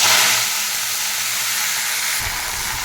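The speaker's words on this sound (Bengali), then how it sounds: "দিয়ে দিচ্ছি কলমি শাকগুলোকে" Kalmi greens dropped into hot oil in a wok release a loud, broad steamy hiss that holds steady and close, easing slightly toward the end.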